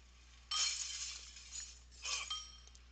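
Glass shatters twice in the Happy Wheels video game, a bright crash with a tinkling tail, then a second, shorter smash about a second and a half later, fairly loud against a quiet background.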